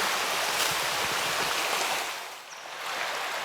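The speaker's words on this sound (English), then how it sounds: "I've made it to the middle of the river." A flowing river heard from the middle of the stream, a steady close rushing and babbling of water, dipping briefly before resuming, with no talking.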